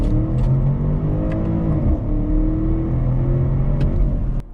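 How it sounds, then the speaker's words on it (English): A BMW X7 M50i's V8 revs in Sport Plus mode, a loud, steady, deep engine drone heard from the cabin that rises in pitch near the middle and holds, with no talking. "we're going to put it into Sport Plus mode right now, flick it over into manual mode with the paddle shifters"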